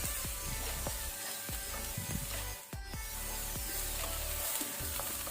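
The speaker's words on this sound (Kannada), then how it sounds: "ಈಗ ಈರುಳ್ಳಿ ಕೆಂಪಾಗೋ ತನಕ ಸ್ವಲ್ಪ ಮೀಡಿಯಂ ಫ್ಲೇಮಲ್ಲಿ ಫ್ರೈ ಮಾಡ್ಕೊಳ್ಳುವ" Onions frying in a pan over a medium flame, a steady close sizzle with faint clinks of a utensil stirring; no talking.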